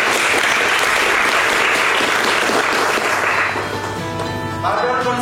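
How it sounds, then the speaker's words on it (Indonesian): A crowd at an Indonesian conservation cadre gathering at the Bali natural resources conservation office breaks into dense, sustained applause that tapers off near the end as a voice begins speaking. "Aplaus untuk kita semua."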